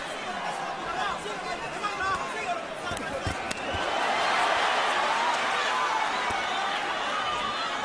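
A crowd murmurs and cheers steadily through a boxing match between Miguel Cotto and Floyd Mayweather Jr., a broad roar that swells louder midway, with a faint commentary voice underneath.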